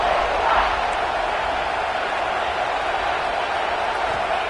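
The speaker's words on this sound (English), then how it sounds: "This crowd, full throat, splitting the eardrums" Stadium crowd roar from a college football video game, a loud, continuous wash of cheering noise holding steady throughout with no breaks.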